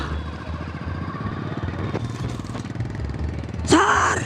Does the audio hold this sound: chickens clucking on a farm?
no